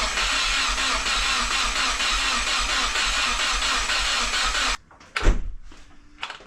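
A Subaru WRX engine with a new short block cranks into a loud, steady drone for several seconds, then cuts off; a deep thump and a couple of fainter knocks follow in the quiet.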